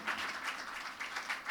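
An audience applauds the dance teachers at a gejje pooja dance program, a steady patter of many hands clapping at moderate loudness, slightly distant and sustained throughout.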